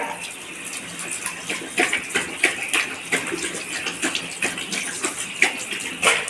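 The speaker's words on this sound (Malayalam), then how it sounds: "എന്തോരം വെള്ളം കുടിക്കുന്നത്" A dog lapping water eagerly after running, a quick repeated series of wet laps and splashes close by, fairly loud and rhythmic.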